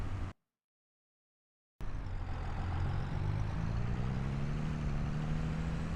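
A tractor engine in Farming Simulator 25 drives steadily with a low rumbling drone and rising gear whine, continuous after a brief silent gap near the start.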